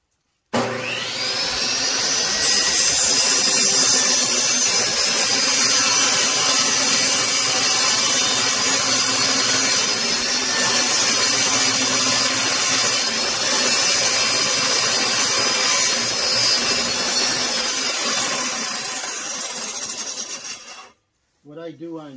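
A power saw rips a painted wooden board, cutting the paint off along one side: a loud, steady, close whine of blade through wood that holds for about twenty seconds before the saw is switched off and winds down.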